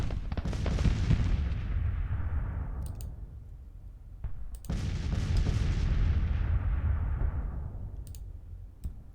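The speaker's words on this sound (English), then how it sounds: "There's still guns firing here." Artillery guns fire in a Civil War strategy game, two heavy booms a few seconds apart, each with a long rumbling tail, over faint scattered clicks.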